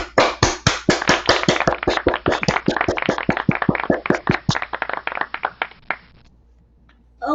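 Warm applause for a guest at a live-streamed event, a steady run of many sharp, close claps that thins out and stops after about six seconds, leaving near silence.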